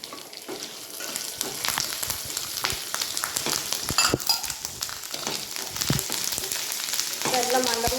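Slit green chillies and a handful of curry leaves sizzle in hot oil in a frying pan, a continuous crackling hiss with scattered sharp pops, close and steady throughout.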